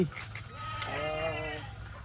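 A single goat bleats in a wavering, drawn-out call close by, over quiet outdoor background.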